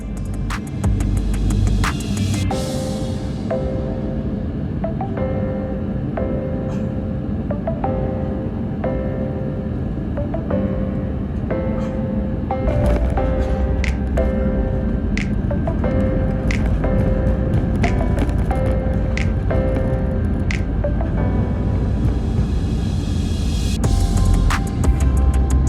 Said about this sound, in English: our plane soon coming in for a landing in London Heathrow